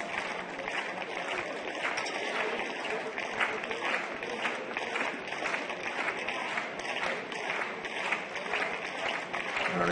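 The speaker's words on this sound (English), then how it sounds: "just the crowd trying to jeer up behind her there in the stand opposite" Stadium crowd noise during a women's high jump qualification in Tampere: a broad, steady wash of distant voices and scattered clapping from the stands. It carries on without a break for the whole stretch, at a moderate level.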